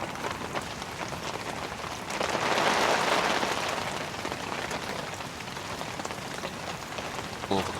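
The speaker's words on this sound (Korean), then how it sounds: "빗소리 이렇게 들으면서 캠핑하는 거." Steady, dense heavy rain patters on a camping tent nearby, swelling briefly louder before settling into a constant hiss of falling drops.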